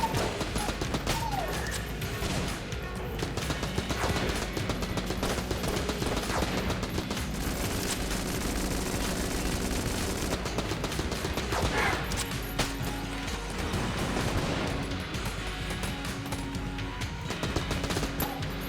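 Rapid gunfire and shooting effects from the bullet-hell game Enter the Gungeon, dense and continuous with bursts and crashes over game music, with no talking.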